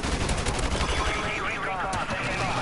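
AK rifle fire in the video game Call of Duty Modern Warfare Remastered, dense rapid shots over continuous game noise, loud and close, with a voice faintly underneath.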